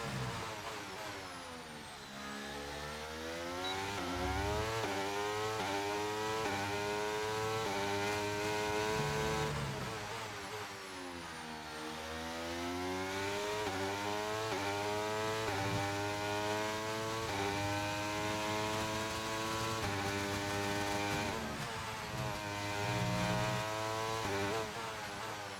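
An Aston Martin race car on a qualifying lap in a racing video game, its engine climbing through rising revs, dropping at each upshift, and sweeping up and down again over a long stretch with no talk.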